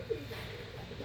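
A pigeon, a tall female from a compact breeding loft, gives a short, low cooing burst against steady background noise.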